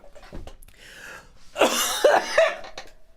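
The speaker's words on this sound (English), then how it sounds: "Coughing up a lung here." A person coughs hard in a rough, wet burst of several hacks close to the microphone, with quieter breathy sounds before it.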